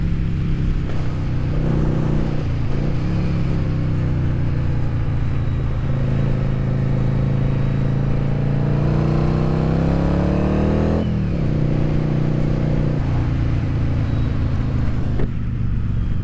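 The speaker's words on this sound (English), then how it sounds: "the bike seems to be running really nicely. It's not breaking up through the rev range." A Yamaha Virago XV750 V-twin motorcycle fitted with pod air filters runs steadily close by, its engine note rising and falling as it is revved through the range, a continuous loud throaty drone with no talking.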